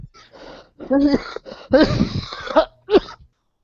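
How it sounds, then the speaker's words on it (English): A person coughs and clears their throat several times in short, harsh bursts, close and fairly loud. "I can hear you coughing perfectly"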